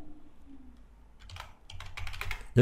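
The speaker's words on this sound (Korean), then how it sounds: "여기다가 사용자 이름 입력하고요" Computer keyboard keys tapped while entering a username and password for a Scratch login, a quiet lull giving way to a burst of rapid clicking that ends in a louder knock.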